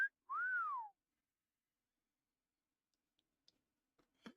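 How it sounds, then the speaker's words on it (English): A single rising-then-falling human whistle, clear and close, followed by silence and a few faint scattered clicks near the end. "A human whistle."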